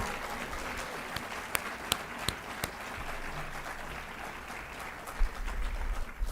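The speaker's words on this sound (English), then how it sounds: "So a big, huge round of applause for Miss Abby Andrew." A high school academic awards ceremony audience claps at length for an honoree, a continuous even patter of many hands with a few sharper individual claps standing out and a low thump near the end.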